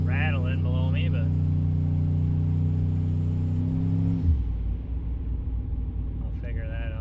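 A turbocharged LS engine in a Ford Sierra builds boost with a steady, rising engine tone, then the note drops off sharply into a lower rumble, close-up from inside the car with brief talk.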